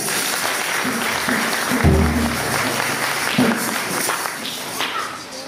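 A church congregation breaks into sustained applause during a French-language morning worship service. The clapping is a dense, even wash across the whole clip, with a low hum and brief vocal tones rising beneath it.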